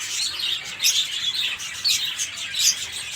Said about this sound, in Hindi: ये खूबसूरत लगते हैं परिंदों की आवाज़ें